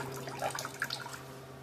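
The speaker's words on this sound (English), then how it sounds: "Get rid of a little bit of this water." Water is poured off a pan of gold paydirt from a mountain creek mine in North Carolina, a short gurgling splash with a few close bubbly spurts over a steady low hum.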